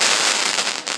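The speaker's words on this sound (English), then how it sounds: "This huge firework is called End of the World, and I am absolutely terrified." A huge firework called End of the World goes off in a loud, dense burst of hissing crackle that fills the whole second.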